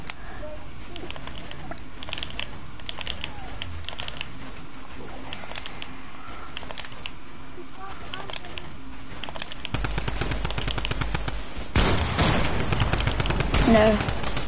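Rapid gunfire from a first-person video game shooter crackles steadily throughout, growing louder and denser toward the end, with a voice talking over it.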